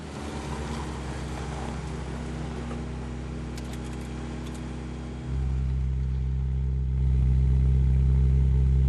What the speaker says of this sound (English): That's quite high revs. Yeah, idle's quite high